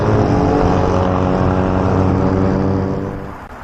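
Highway traffic rolls past alongside a bike lane in Chiang Mai, Thailand, a steady loud engine drone and tyre roar close by that fades slightly near the end.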